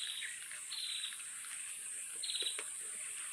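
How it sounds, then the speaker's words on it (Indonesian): Outdoor chirping, with high bird or insect calls repeating over a constant high insect drone, fairly faint and without talk. "Wah, suara burung."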